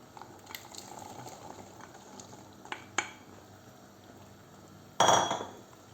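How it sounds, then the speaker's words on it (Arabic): Okra is tipped into a pot of simmering meat for an Arabic okra stew: soft stirring and small clinks of utensils on the pot, then a sudden loud sizzling splash as the vegetables land, fading over the next second. "هلا راح اضيف عليها البامي"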